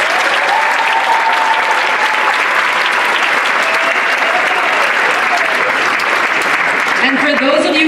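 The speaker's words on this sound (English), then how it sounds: "Please give Dr. Abdul Sayed another round of applause" A big audience at an Arab American gathering claps for a speaker, a full steady roar of applause throughout, tapering slightly as a voice comes in at the very end.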